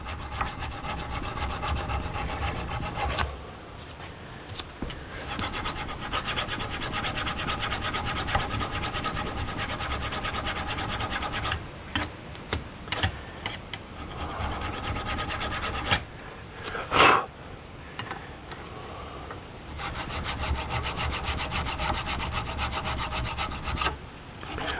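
Old corrosion is scrubbed off a Chevy Silverado brake hub with a harsh, rasping scrape, loud and up close, running steadily with a few brief breaks and bursts of quicker strokes.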